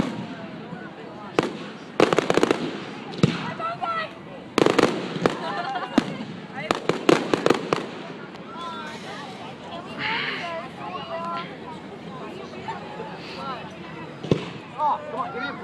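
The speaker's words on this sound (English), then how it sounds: "So many fireworks." Fireworks bursting at a strawberry festival, a rapid string of sharp cracks and booms in clusters, loud and fairly close, with people talking and calling out between and over the explosions.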